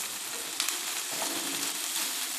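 Garlic and onion frying in oil for Syrian Lebanese rice, a steady close sizzle with fine crackling throughout and a faint stir or clink partway, no talking.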